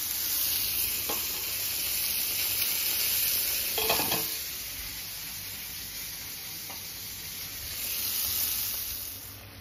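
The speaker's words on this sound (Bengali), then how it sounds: "কাঁটা চচ্চড়িটা হয়ে গেল সর্ষের তেল দিয়ে" Fish bone curry (bhetki kanta chorchori) cooks in mustard oil in a pan, a steady close sizzle and hiss with a few soft stirring scrapes and clinks, no voices.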